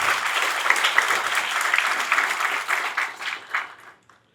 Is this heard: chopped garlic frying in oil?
no